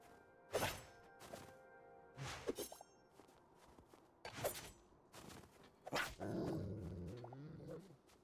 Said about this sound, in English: that's a dog.